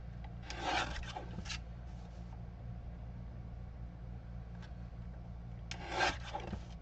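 Card stock being trimmed by hand, two short scraping cutting strokes near the start and end, close and fairly quiet over a low steady hum.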